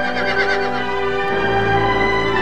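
A horse whinnies over a sustained orchestral movie score, the neigh sitting in the upper register for about a second near the start before the music carries on alone.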